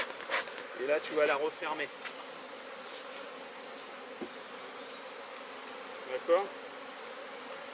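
A steady buzz of honeybees swarms around an opened hive being smoked during cell collection, persistent and close, while someone speaks French briefly at the start and near the end.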